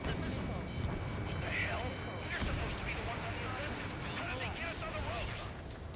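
In Ace Combat 7, a bombing run brings a dense rumble of explosions and heavy gunfire that runs constantly under radio chatter.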